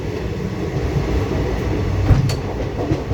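Intercity Express 17011 running on rail, a steady loud low rumble of wheels and carriages with faint clatter and a brief sharp squeal or clank partway through, no voices.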